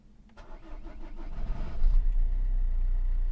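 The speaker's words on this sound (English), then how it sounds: "See, we're up, the car's up and running" A car engine cranks several times and catches, rising into a steady loud idle that holds to the end, recorded up close during diagnostic scanner work.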